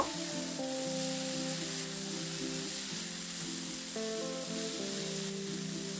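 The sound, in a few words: stirring and sizzling bathua greens with vegetables in a pan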